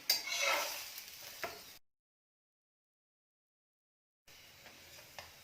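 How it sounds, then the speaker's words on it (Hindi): Radish and gram flour stuffed paratha frying in oil on a pan, a crackling sizzle with a few scraping sounds, broken by a stretch of total silence before a quieter sizzle returns. "ऐसे ही दोनों साइड पलटी कर करके दोनों तरफ से परांठे को गोल्डन ब्राउन होने तक फ्राई कर लेंगे"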